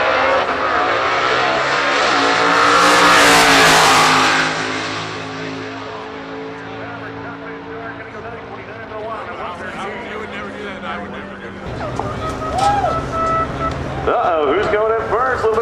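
A race car does a burnout at the Haltech World Cup, its engine roaring loud and close and swelling to a screaming peak before settling into a rough revving drone. A crowd and voices are heard underneath.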